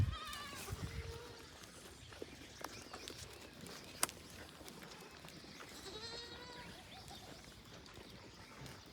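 A goat bleats at a farm, the faint wavering calls rising at the start and again near the end over a noisy outdoor background.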